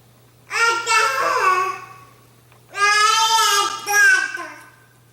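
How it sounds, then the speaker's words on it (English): A baby babbling in two drawn-out, sing-song vocal stretches separated by a pause, close and clear, with rising and falling pitch. "The first major stage of your child's first year is the babbling stage."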